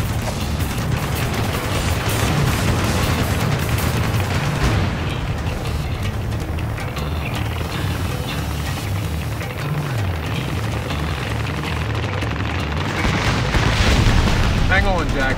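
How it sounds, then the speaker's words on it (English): Heavy gunfire and explosions in the combat flight game Ace Combat Assault Horizon, a continuous loud roar of booms and engine rumble with voices speaking over the din. "We're taking heavy fire."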